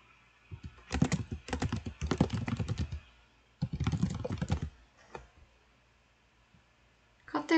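Computer keyboard typing in bursts as a to-do item is entered into a React to-do list web app, close and clear, with short pauses between runs of rapid keystrokes and a brief final flurry.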